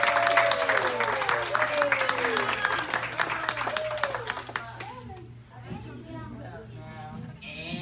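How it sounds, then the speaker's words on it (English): Parents applaud at a children's martial arts belt graduation, loud dense clapping with excited voices and children talking over it, fading out halfway as speech takes over in the room. "Parents, give one more big round of applause."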